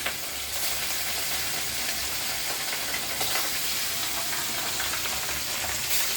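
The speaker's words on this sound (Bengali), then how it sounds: "গরম তেলের মধ্যে দিয়ে দিলাম কাঁচা মাছ, হলুদ দিয়ে মাখাইছি এটা ভাজার জন্য।" Raw fish rubbed with turmeric frying in hot oil in a kadai, a loud, dense, continuous sizzle and crackle close up, with no voices.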